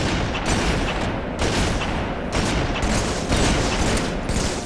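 Halo 3 multiplayer gunfire rattles in loud, dense bursts with heavy booming shots, continuous over several seconds with no clear speech.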